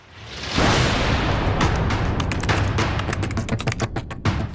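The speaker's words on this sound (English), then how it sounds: "Came another blast." Explosion blast near Kabul airport, a loud burst of broadband noise that rises sharply and rumbles on, with a rapid crackle of sharp cracks like gunfire through the following seconds.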